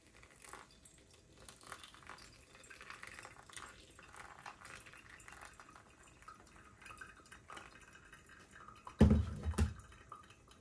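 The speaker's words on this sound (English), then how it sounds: "Okay, I'm gonna pour it now." A supplement drink pours briefly into a container near the end, a short close splash and clatter after a long stretch of quiet room noise.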